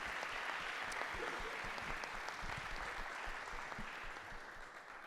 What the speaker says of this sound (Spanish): un fuerte aplauso para nuestros expositores